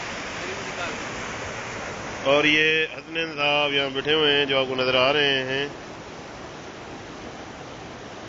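The waterfall on the Elbow River gives a constant broadband rush of falling water. It stays steady and fairly loud for the whole stretch, with someone talking over it in the middle.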